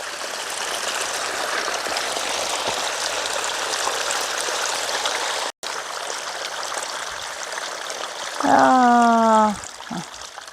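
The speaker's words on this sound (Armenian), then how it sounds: "Հեղնար աղբյուրը գալիս է։" Water from the Heghnar spring flows in a steady, continuous rush close by, and a person briefly speaks over it near the end.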